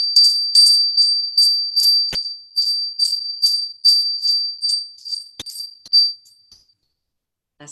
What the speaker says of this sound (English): got her fairy bell to be with us